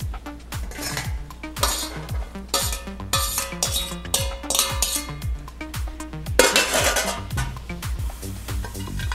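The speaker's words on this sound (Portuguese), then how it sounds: "Numa panela grande, a gente coloca as bergamotas batidas" Utensils clink and scrape against a large pot as blended tangerines and their peels go in for jam, with scattered metallic knocks over a steady musical beat.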